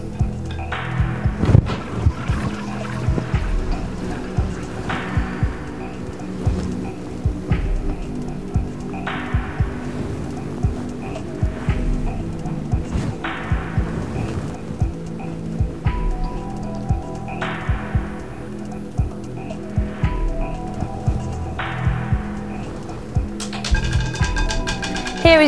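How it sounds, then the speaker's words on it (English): A roulette wheel spins on a televised casino game show as the ball rolls around the track in a steady, continuous rattle with scattered clicks, moderately loud throughout with little voice present. "Time to spin your real wheel once again"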